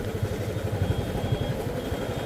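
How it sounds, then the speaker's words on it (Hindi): A small vehicle's exhaust silencer throbs loudly on a road trip near Rishikesh, a close, rapid, steady low pulsing with faint clatter running throughout. "गाड़ी भी छोटी है लेकिन साइलेंसर इस तरह से आवाज़ कर रहा है।"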